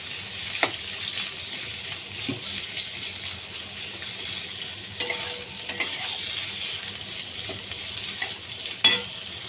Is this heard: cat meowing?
no